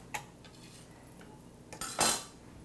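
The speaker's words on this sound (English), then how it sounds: "So I've chopped up some apples, and you're going to just get that in a pan." Chopped apples tipped into a pan to caramelise, a few light clinks followed by a louder clattering tumble as the pieces land on metal, close and brief with no talk.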